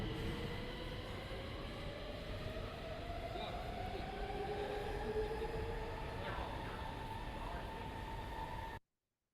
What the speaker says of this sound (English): we also have the ambient sound of the other metro coming. We have the announcements overhead